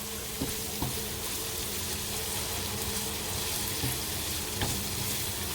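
Tuna cooks in oil in a pan, giving a constant, fairly quiet frying sizzle with a few light utensil taps against the pan.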